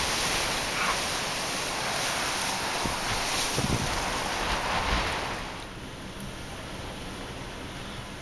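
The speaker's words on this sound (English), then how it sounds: "Crazy wind." Gusty storm wind in San Jose buffets the microphone in a broad continuous roar, strongest for the first five seconds before easing to a lower rush, with no voices.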